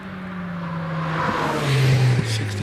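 A supercharged Vauxhall racing car accelerates up the Harewood hillclimb course, a steady engine drone with a rising then stepping pitch as it shifts gears, moderately loud and heard from a distance with no one talking.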